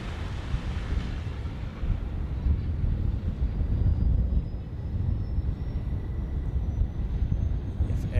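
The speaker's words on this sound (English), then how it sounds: "Air Dolomiti coming into the screen from Frankfurt, I guess. Yes. Embraer 190." Air Dolomiti Embraer 190 jet airliner arriving at Zurich Airport, a low distant engine rumble mixed with wind buffeting, with a faint rising whine threading above it.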